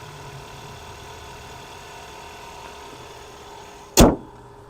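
Hybrid Hyundai Santa Fe SEL Premium (2023) with its 1.6-liter turbo engine restarting while driving: a quiet cabin hum, then one short, loud thump as the engine kicks back on near the end.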